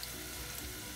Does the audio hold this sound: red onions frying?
yes